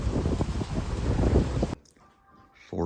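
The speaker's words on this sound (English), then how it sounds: "Wind is picking up." Loud, blustery Hurricane Milton wind roars against the microphone, then cuts off abruptly to a quiet background before a fresh gust returns at the end.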